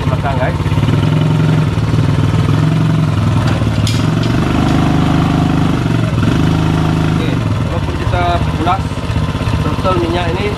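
A homemade three-wheeled motorbike engine runs at a steady, loud idle-like drone with a mid-pitched hum, close to the microphone, while people talk over it.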